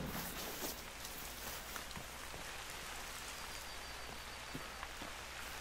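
Steady rain in the hunting video game The Hunter, pattering on a surface, a constant broadband hiss with scattered drop taps, and no talking.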